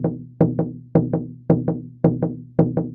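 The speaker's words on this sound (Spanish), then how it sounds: "Este patrón rítmico tocado en el kultrún suena así." A Mapuche kultrún drum plays the choike rhythm, a repeating pattern of paired strikes. Each pair is a strong hit followed by a quick second hit, and the pairs come in an even loop. The drum is played alone, close and resonant.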